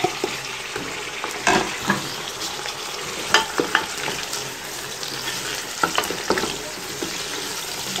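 Creamy mutton frying with garlic, ginger and black pepper while being stirred in a pan: a steady sizzle with sharp scraping and clinking stirring strokes recurring at irregular intervals, fairly close and moderately loud.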